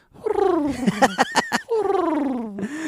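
A person's voice imitates a cat's purr and meows, a close run of throaty rolling sounds and short chirps lasting a few seconds, with no other voices.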